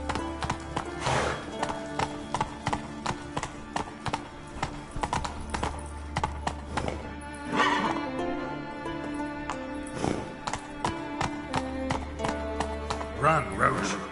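A horse gallops in Witcher 3, rapid rhythmic hoofbeats clip-clopping close by with occasional snorts, under spoken dialogue and a game music bed.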